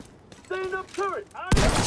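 A voice speaks briefly, then a standing turret in The Division 2 opens fire with a sudden loud, dense burst at the very end.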